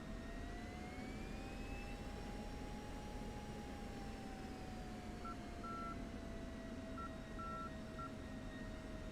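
A jet aircraft in the DCS flight simulator spools up for takeoff without afterburner, heard as a steady roaring whine with a slowly shifting tone and faint intermittent warning beeps, no voices.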